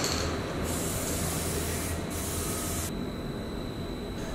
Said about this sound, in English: I'm going to spray two coats of that over the roof rails,